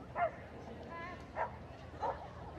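Dog barking during an agility relay event, three short yips spaced about a second apart over a murmur of background crowd noise, moderately near.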